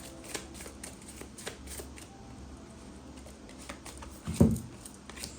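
Tarot cards are shuffled and drawn in a string of soft riffling flutters and light taps, ending in one sharper snap as a card is pulled, all close and quiet with no talk.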